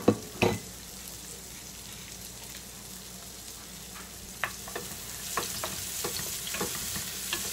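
Onion drops into hot oil for flor de izote with egg, opening with a sharp sizzling burst, then a quiet steady fry dotted with popping crackles that grow busier toward the end.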